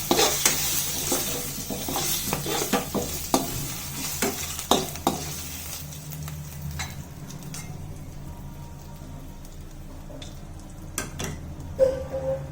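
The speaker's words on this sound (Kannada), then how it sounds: "ಇದನ್ನ ಎಣ್ಣೆಯಲ್ಲಿ ನೀಟಾಗಿ ಫ್ರೈ ಮಾಡ್ಕೊಳ್ಳಿ. ಸಣ್ಣ ಉರಿಲೇನೆ ನೀವು ಫ್ರೈ ಮಾಡ್ಕೋಬೇಕು." Green chillies fry in oil over a low flame for an egg curry, a steady sizzle with frequent spatula scrapes and taps against the pan, busier at first and then quieter.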